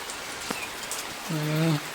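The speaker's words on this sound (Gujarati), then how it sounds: "એનાથી વરસાદ ચાલુ થયો" Rain falls steadily on surfaces during a thunderstorm season, a constant close patter. A voice speaks briefly over it near the end.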